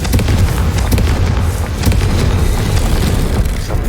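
A loud, continuous rumbling blast from the Confringo fire spell in the video game Hogwarts Legacy, dense booming and crackling throughout.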